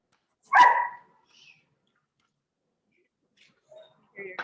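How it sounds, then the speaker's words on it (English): A dog barks once, a single sharp, fairly loud bark in a quiet forge workshop, followed by faint distant sounds and a brief voice near the end. "Hear your dog."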